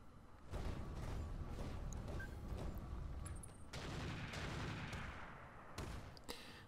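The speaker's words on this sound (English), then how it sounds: "rifle shots" Gunfire in the Roguetech video game, a rapid series of loud rifle shots cracking in quick bursts, with a steady volley running through most of the stretch and no talk over it.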